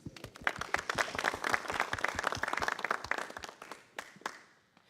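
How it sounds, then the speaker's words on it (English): An audience claps at an Eagle Scout ceremony: a steady, dense round of hand claps that holds for several seconds, then thins and fades out near the end. "let's give a round of applause for that video."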